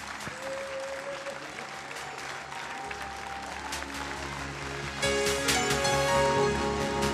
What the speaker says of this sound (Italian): E allora è il momento di consegnare la coppa alla scuola vincitrice delle Panatliadi 2012. Un applauso!